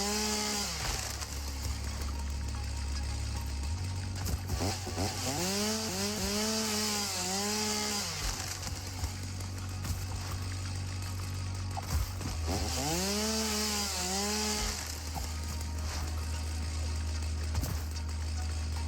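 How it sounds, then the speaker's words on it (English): Chainsaw felling trees in the video game Satisfactory, heard as a constant engine drone with two rising-and-falling revving bursts mid-clip, loud and alone with no speech. "a lot more trees chopped down so I can keep producing biomass as much as I hate the chainsaw sound"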